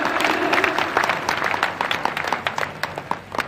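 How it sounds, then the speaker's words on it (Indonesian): A church congregation at a Christmas service applauds, a dense, sustained burst of many hands that thins toward the end into scattered louder claps. "Tepuk tangan untuk kemuliaan Tuhan"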